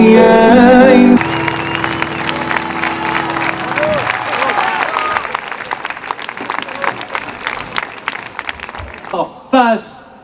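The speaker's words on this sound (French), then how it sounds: "On l'applaudit." A sustained musical chord gives way to a crowd clapping steadily and loudly, with some cheering, before a brief burst of voices at the end, at a Paris commemoration marking one year since the 7 October 2023 attack.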